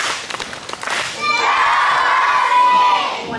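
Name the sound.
children giving a big cheer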